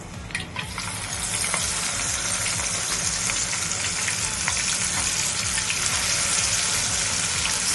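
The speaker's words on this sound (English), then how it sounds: "It's time to fry our plantains. I will be deep frying these plantains." Spiced plantains deep fry in hot oil with onions, giving a loud, continuous bubbling sizzle that starts quieter and swells within the first second, then stays steady and close.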